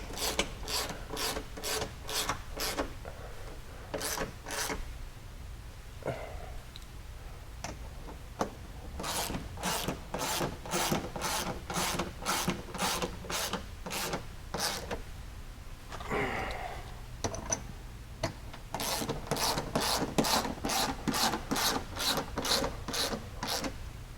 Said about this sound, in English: 8mm bolts to tighten. Those are going to take a 13mm socket.